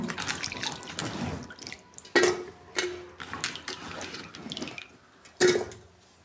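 Splashing water pours and trickles into a cooking pot holding rinsed tapioca, with a few metallic clanks of the vessel and sloshing bursts between quieter drips.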